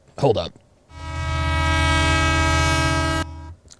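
A loud, sustained train horn blasts as a sound effect for about two seconds after a short burst of talk, then cuts off abruptly into quieter sound.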